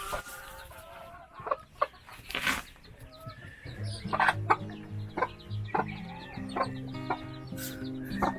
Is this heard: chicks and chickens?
yes